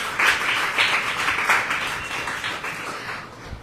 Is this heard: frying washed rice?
no